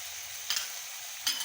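Mixed vegetables for veg noodles sizzle steadily in a hot pan, close and constant, with two soft stirring scrapes breaking through the hiss.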